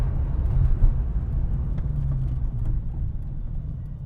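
A Maserati Coupe GT 4200 with a manual gearbox is driven along, its engine a steady low rumble heard from inside the cabin, fairly muted with no sharp revs.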